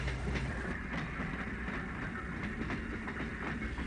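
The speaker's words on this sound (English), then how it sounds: "the characteristic sounds of the mountain train could be heard" A steam mountain train rumbles along the rails with a continuous low roar and faint rhythmic clacking, steady and fairly close throughout.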